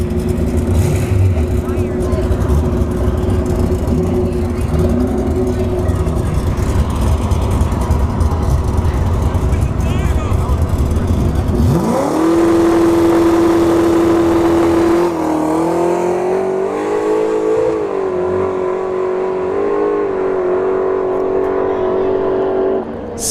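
A nitrous-equipped box-body drag car makes a pass at a dragstrip, its loud engine roaring and then climbing through a rising, sustained pitch as it pulls away, with crowd and announcer noise underneath.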